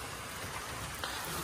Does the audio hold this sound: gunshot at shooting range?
no